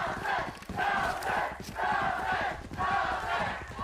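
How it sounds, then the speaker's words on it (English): A stadium crowd at a Valorant esports match between Sentinels and Cloud9 cheers loudly and continuously, surging in waves of roaring, shouting voices. "The crowd cheering him on."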